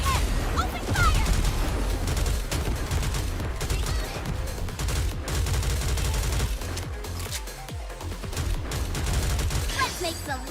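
Rapid fire from the Aegis cannon in Goddess of Victory: Nikke, a dense rattle of shots and booms layered over battle noise, continuous and loud, with a voice talking beneath.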